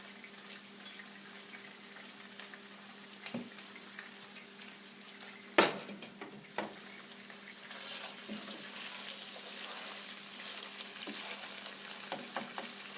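Chicken pieces fry in extra virgin olive oil, a soft continuous sizzle with a low steady hum beneath, broken by a sharp clatter midway and a few smaller knocks.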